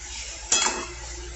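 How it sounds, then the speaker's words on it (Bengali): Rohu fish heads, already fried, being stirred with spices in a pan for a masoor dal dish: one brief clatter of the spoon against the pan over a low background hiss. "মশলার সাথে ভালো মতন এটাকে আমি এখন কষিয়ে নেব।"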